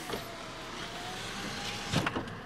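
A car's electric power window motor whirs faintly and steadily with a thin whine, followed near the end by a couple of brief louder knocks or clunks.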